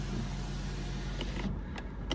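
A power window motor in a 2006 BMW 750iL whirs steadily for about a second and a half, then stops, followed by a few faint clicks inside the car.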